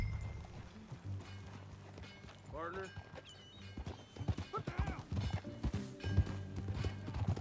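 Horse hooves clip-clop in Red Dead Redemption 2, with a horse neighing partway through and the hoofbeats growing louder toward the end, all under ongoing dialogue.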